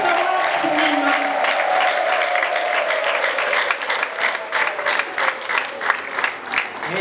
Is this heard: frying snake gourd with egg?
no